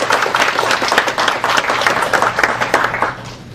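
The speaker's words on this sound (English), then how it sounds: "A round of applause for everybody there." Conference audience clapping at the close of a talk at an academic meeting, a smaller, uneven patter of individual claps, fairly close and fading toward the end.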